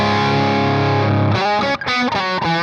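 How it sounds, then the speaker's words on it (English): Electric guitar on a full humbucker bridge pickup played through a Morgan MV45 amp, a version of a Marshall JMP 2204, giving a loud distorted sustained chord that gives way to choppy, rhythmic driven strums, with no talking. "Here's a bridge pickup, full humbucker."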